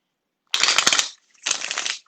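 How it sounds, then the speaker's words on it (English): Close by, a deck of tarot cards is shuffled in two quick riffling bursts separated by a short pause, crisp and papery against silence. "one more shuffle"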